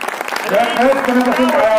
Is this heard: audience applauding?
yes